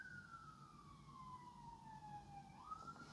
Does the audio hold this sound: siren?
yes